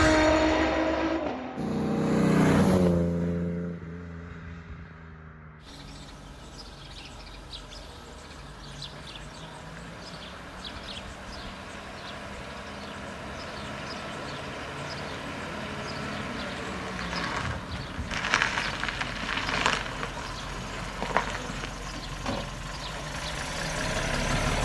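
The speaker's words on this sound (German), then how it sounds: "Und jetzt fahren wir einfach mal los." A 1953 Mercedes 220 Cabriolet B pulls away after a brief burst of noise, its engine running steadily at moderate level through the drive, with occasional faint bird calls and small knocks over the continuous hum.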